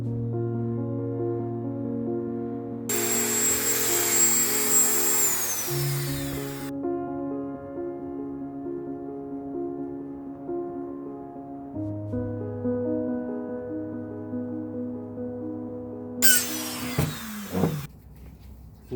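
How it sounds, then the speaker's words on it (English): A Dremel rotary tool grinds flash off cast pewter spoons, its steady motor whine shifting in pitch as bursts of harsh grinding come and go, with a brief sharp burst near the end. "you quickly end up having to come over to the Dremel to grind that back the rest of the way"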